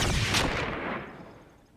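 A single loud gunshot in a TV episode, a close, sharp blast followed by a booming tail that fades over about a second and a half, with no talking.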